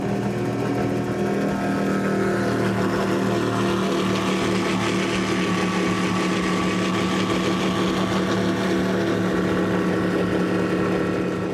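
Twin Mercury Racing 525 engines, supercharged and not stock, power a racing powerboat at a Key West poker run, giving a loud, steady, close throbbing drone that holds without a break from start to finish, with no talking.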